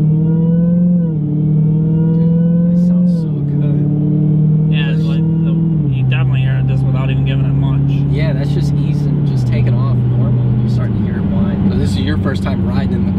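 A supercharged Dodge Demon accelerates hard, its loud engine drone climbing and dropping in steps as it shifts through the gears. A thin high whine rides on top, with scattered clicks and rattles later on.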